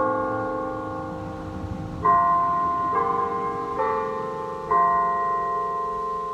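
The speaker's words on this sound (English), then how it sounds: "I just don't want to be overpowered by the bells" Church bells ring out in overlapping peals, with fresh strikes arriving every second or so and their tones hanging and layering. Loud and close, with no talk over them.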